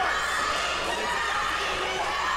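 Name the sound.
wrestling crowd cheering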